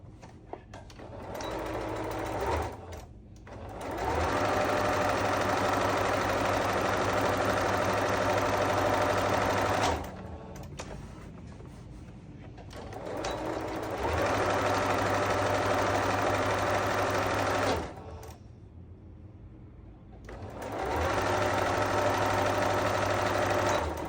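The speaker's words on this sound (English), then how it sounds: "lay this one pretty side to pretty side, and sew this down" A sewing machine stitches pecan pie quilt block pieces in three long, steady runs of loud, close mechanical whirring, each broken by short pauses, with no talking.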